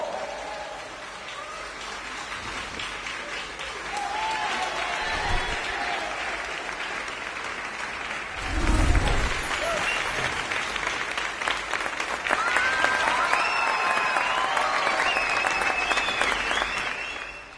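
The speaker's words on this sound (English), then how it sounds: "Yeah, you better clap." Crowd applause in Hogwarts Legacy at a house announcement, a broad steady clapping wash with rain-like texture lasting throughout, with a few faint voices rising in the background.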